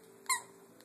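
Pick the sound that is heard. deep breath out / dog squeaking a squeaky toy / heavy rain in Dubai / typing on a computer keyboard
dog squeaking a squeaky toy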